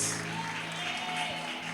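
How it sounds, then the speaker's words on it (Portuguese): A church congregation applauds during a prophetic seminar service, a continuous, fairly loud wash of clapping that blends with sustained tones of background music. "Aplauda o Rei!"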